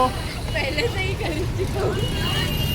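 Busy road traffic at a village jatra fair, with buses, cars and rickshaws forming a steady rumbling drone under constant chatter and crowd babble.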